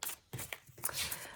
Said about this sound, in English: just really quick, while I'm shuffling the cards here